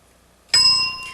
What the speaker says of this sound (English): Start your description when you hear the sound of the bell.